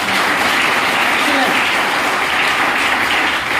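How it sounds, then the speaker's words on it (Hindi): A seminar audience in a hall claps loudly and continuously, a thick, unbroken roar of many hands at close range that stays level throughout without any pause or speech. "तो शेखर जी के लिए भी तो ताली बनती है।"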